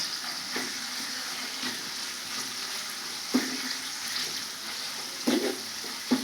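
Curry leaves hiss and crackle in hot oil while beans fry, a steady close sizzle broken by a few sharp pops and clinks.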